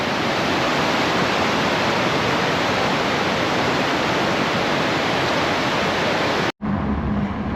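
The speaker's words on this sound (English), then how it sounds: "It's a raging torrent today." Humber River in flood as a raging torrent, a loud, dense, continuous roar of rushing water close by that cuts off abruptly near the end.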